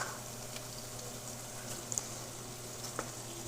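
Sausages fry with garlic in a pan, giving a soft, steady sizzle and quiet bubbling at low volume, with a few faint ticks and pops.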